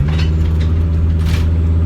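A low, steady Mercedes Sprinter van engine rumble with a throaty exhaust note through a cut-off short exhaust with the muffler removed, continuous and fairly loud throughout, with no talking.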